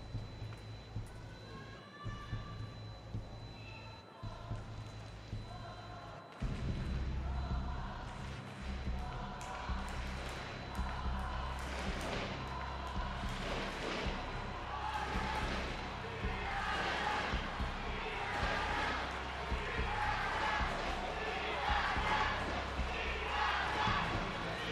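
A crowd at a Paralympic men's team foil wheelchair fencing bronze match in London, steady background murmur swelling into sustained cheering and shouts, with a commentator's voice over it.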